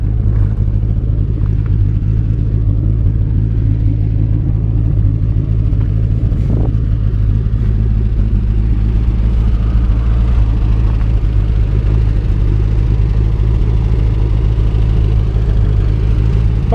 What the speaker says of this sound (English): Sounds strange, but it sounds extremely fluffy out the exhaust.